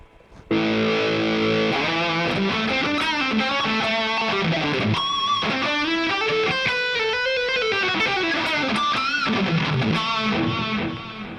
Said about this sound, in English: now you can hear that it's ridiculously out of tune